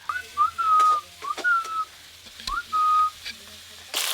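A bird whistles nearby in short, clear, tuneful notes repeated in a loose rhythm, heard in a quiet kitchen with faint background clatter.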